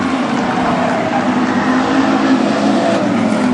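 WISSOTA street stock race cars roar around Granite City Speedway, a loud continuous engine drone filling the track with no pauses.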